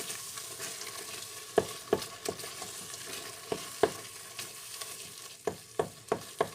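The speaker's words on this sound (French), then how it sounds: "je mets la cassonade et je continue à touiller" Apple compote with brown sugar being stirred in a pan: a soft, low sizzle under sharp, irregular clinks and taps of a utensil against the pan, close and distinct, with no talking.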